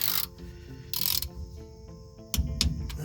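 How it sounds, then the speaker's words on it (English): Torque wrench tightening the differential cover bolts on a Ford 8.8 axle of an OBS Ford F150, giving several short, close metallic ratcheting bursts spaced apart over a low background hum. "And then we'll just go ahead and torque these."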